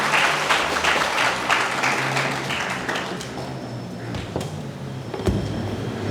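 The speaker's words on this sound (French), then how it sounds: "sur nos applaudissements" A crowd at a graduation ceremony applauds, a dense, loud wash of clapping that gradually thins out, with a few isolated claps and a faint knock toward the end.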